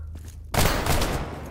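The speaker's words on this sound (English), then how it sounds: "Wait, why is he shooting at me?" Gunfire from a bandit in STALKER GAMMA, a sudden loud burst of shots after a quiet moment, then a sustained crackling volley that fades slightly.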